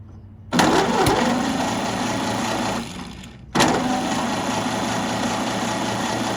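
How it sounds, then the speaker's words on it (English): A troubled engine cranks and fires, roaring up loudly and running roughly. It dies away, then is started again with another sharp catch and continues running steadily close by. "Turn the key to on and then press the starter button."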